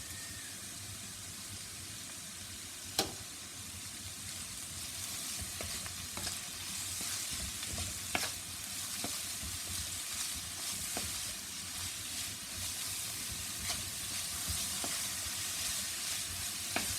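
Mixed vegetables for vegetable fried rice sauté in a hot pan with a steady, close sizzle, broken by sharp scrapes and clicks of stirring throughout.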